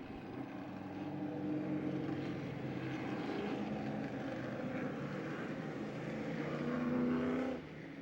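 Late model race cars rolling around on their final pace lap, a steady engine drone holding throughout before swelling louder near the end as the pack passes, then dropping back.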